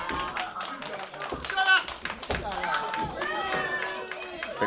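Crowd at a live wrestling-style fight in Campbell River cheers and claps in bursts, a steady roar of voices and applause under continuous commentary talk.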